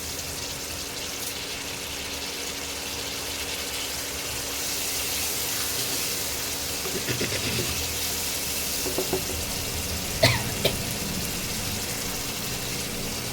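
Potatoes tipped into hot spiced oil give a steady, close broadband sizzle that runs throughout, with a few sharp pops and clatters near the end and no voices.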